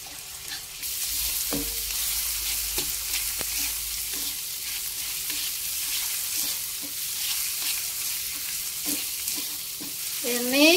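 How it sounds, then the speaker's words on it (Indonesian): Sambal chili paste is stir-fried in a pan, a steady close sizzle broken by repeated scraping taps of a spatula stirring the paste, with no talk. "Kita tumis hingga sambelnya matang dan tanak."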